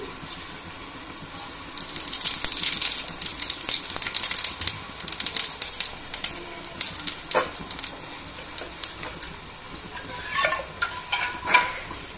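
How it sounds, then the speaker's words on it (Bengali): Dal being tempered with spices in hot oil, a steady crackling sizzle with scattered sharp pops and spits, loud and close, with no voices. "অন্যদিকে আমি ডালটাও ফোড়ন দিয়ে নিচ্ছি।"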